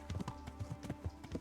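Horse hooves clip-clop in a steady trotting rhythm while riding in the medieval game Kingdom Come: Deliverance, quiet and close, with no voices.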